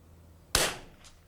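.22LR rifle firing at a target 94 yards away, a single sharp close crack that decays quickly, followed by a faint distant tap from the impact.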